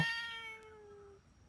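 A cat in a video game lets out a single drawn-out meow that slides downward in pitch, fairly quiet and alone with no speech.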